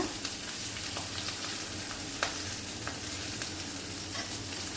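Chopped onion, green chillies and curry leaves sautéing in a pan over fried paste for capsicum chicken make a steady, moderate sizzle, with occasional sharp spatula clicks over a low background hum.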